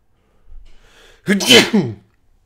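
A single loud, close sneeze bursts out after a short intake of breath, standing alone with quiet before and after.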